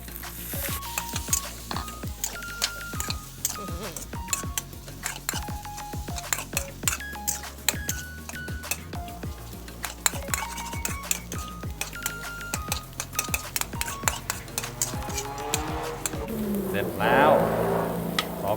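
Fresh shrimp stir-fry in a pan for instant noodles with egg, giving a continuous sizzle under frequent sharp scraping and clattering of a utensil against the pan, with some talk in between.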